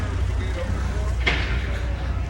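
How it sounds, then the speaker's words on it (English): A truck passes close by on a road, its steady broadband roar and low rumble filling the air, with a brief hiss partway through. "Oh my god, I almost got hit by that truck."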